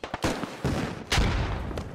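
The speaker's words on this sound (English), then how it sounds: "Rockets coming in." Incoming rockets and gunfire in the military shooter Squad: a few sharp, heavy blasts with rumbling tails, loud and near, separated by brief gaps.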